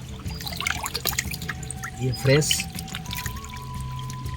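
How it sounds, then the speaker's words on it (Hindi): Fresh waterfall water flowing and pouring on a forested hill trail at Dholkal Ganesh near Dantewada, a steady close splashing under someone talking throughout. "ये झरने का पानी आप देख सकते हैं"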